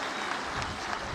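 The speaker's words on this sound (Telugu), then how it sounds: "గట్టిగా చప్పట్లు కొట్టి ఆయన్ని అభినందించండి." Audience applause at a public event with Chief Minister Chandrababu Naidu in Peddannavaripalli, a steady, dense wash of clapping filling the whole short moment without any break.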